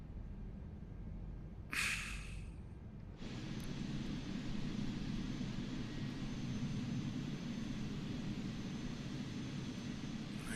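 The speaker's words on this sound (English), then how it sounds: "Starting engines 3 and 4." Airbus A380 jet engines spooling up in a flight simulator, a brief hiss of air followed by a steady, even whine and rumble that holds for several seconds with no talk.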